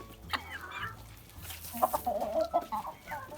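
Chickens and ducks cluck and murmur nearby, soft and irregular, with a few brighter calls mixed in against a quiet farmyard background.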